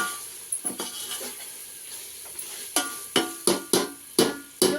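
Ginger paste and tomatoes fry in a pan on the stove, producing a steady soft sizzle with a run of sharper stirring scrapes and clinks building toward the end.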